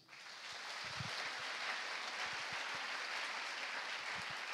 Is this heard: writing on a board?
no